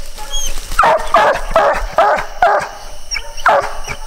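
Young female coonhound puppy barking at a treed raccoon in the woods at night, giving repeated loud, close bawling barks and yips in an uneven rhythm with whines between them.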